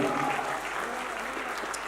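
An audience claps at the Sigaram Talent award ceremony in 2024, a brief dense burst of applause from many hands, fairly loud and close and fading slightly toward the end.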